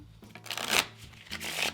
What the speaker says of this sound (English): have the spectator give the deck a nice, thorough shuffle.